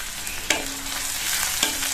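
Onions sautéing in oil with curry leaves, dried red chillies and slit green chillies, made for cauliflower masala dosa: a steady bright sizzle with two sharp spoon-scrape stirs against the pan, close and alone.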